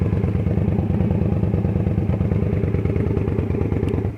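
A 2016 Indian Scout Bobber motorcycle engine runs at close range, with a loud, steady, rapidly pulsing rumble and a faint mechanical clatter throughout.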